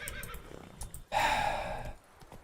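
Roach, Geralt's horse in The Witcher 3, lets out a loud, strained whinny that rises and holds for nearly a second before fading, with soft hoof and movement noises before it and no talking.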